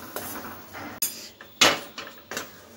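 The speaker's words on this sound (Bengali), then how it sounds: "এবার আমি রসটাকে নাড়িয়ে ফেলব।" Sugar syrup for besan barfi being stirred in a pot, heard as a handful of distinct clanks and scrapes of a utensil against metal, close and fairly loud with short pauses between.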